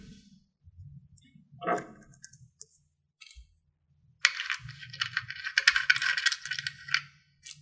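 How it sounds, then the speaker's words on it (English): Metal bolt and washer going into a foosball table leg during assembly, heard as a short metallic clink followed by a longer burst of bright scraping and rattling, close and fairly loud, with no talk. "go ahead and insert your H1 bolt and your H2 washer"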